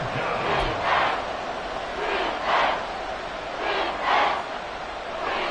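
A football stadium crowd swells in repeated waves of cheering and shouting ahead of a big third down, the surges rising and falling every second or so.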